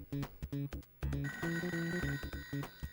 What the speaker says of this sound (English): Ignoring the phone.